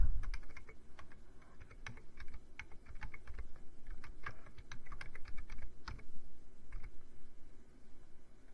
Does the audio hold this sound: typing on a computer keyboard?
yes